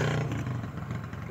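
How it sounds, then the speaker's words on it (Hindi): Evening traffic beside a village road, a close engine rumble from passing vehicles, briefly louder at the start and then fading into a moderate mixed drone. "यहाँ पे शोर भी आ रहा है और ट्रैफिक का भी टाइम है"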